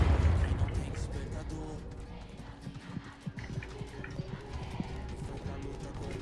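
Horse hooves clatter in the fantasy battle royale game Realm Royale, a quick clip-clop rhythm that starts loud and fades to a lighter patter as the mount moves off.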